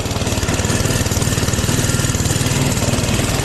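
A Doodle Bug minibike engine roars steadily at high revs with its throttle stuck open, a loud, rapid, even chugging that holds without a break, close by and alone with no voices.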